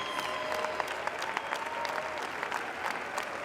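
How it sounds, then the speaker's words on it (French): Festival crowd at the Cannes Film Festival red carpet steps applauds a film cast, a steady wash of clapping with sharp individual claps popping out, moderately loud and continuous throughout. "applaudis comme il se doit par"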